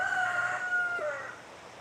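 A rooster on a rural property crows once at moderate distance, a drawn-out falling call lasting over a second against light outdoor background noise.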